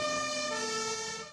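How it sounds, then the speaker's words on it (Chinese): A fire engine siren wails steadily and loudly as the truck rushes toward an earthquake disaster zone in Granada province, southern Spain, with no voices over it. "消防车赶要去救灾"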